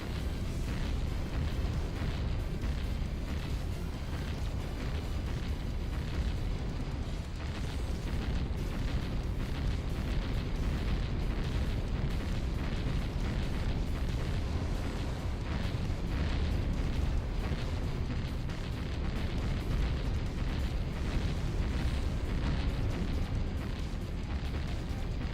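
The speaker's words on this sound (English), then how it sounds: "They're really bombing up the place." Bombing explosions from the video game Astral Party, a continuous, dense roar of booms and bursts filling the whole stretch at steady loudness, with no talk over it.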